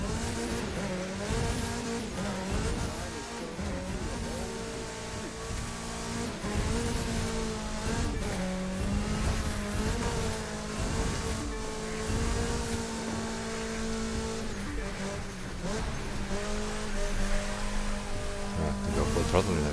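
A race car in The Crew 2 video game runs at full throttle, its engine roaring continuously and rising and falling in pitch through gear changes, with brief tire squeals through the corners.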